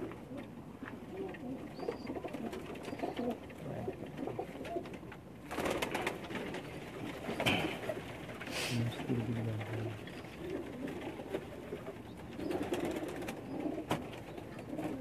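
Pigeons coo softly and repeatedly against a busy background of bird chirps and outdoor noise, with a faint voice at times, at a rooftop pigeon loft in Pakistan.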